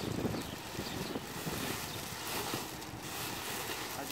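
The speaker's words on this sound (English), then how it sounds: "Now that I get a little bit more wind, I'm gonna do a little bit bigger sweep." Wind gusting steadily as air is swept into an inflatable Hangout Sofa outdoors, a continuous rough rushing and buffeting that fills the whole stretch at moderate level, with no voices.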